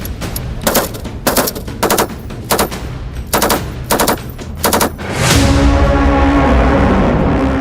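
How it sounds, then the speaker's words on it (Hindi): T-90 and T-72 tanks and BMPs firing together in an army exercise in a forward area of Ladakh: a series of loud, spaced bursts of heavy gunfire, then a sustained roaring blast and rumble that carries to the end. "इसमें T-90 टैंक्स, T-72 टैंक्स और साथ में BMP एक साथ फायर कर कर ये अभ्यास कर रहे हैं।"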